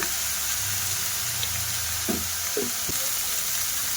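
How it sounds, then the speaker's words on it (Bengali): Chicken pieces sautéing with salt, turmeric and chilli powder in a pan, a steady loud sizzle with a few scraping stirs of a spatula near the end. "ওরা ভালো করে মাংসটা কষিয়ে নেব"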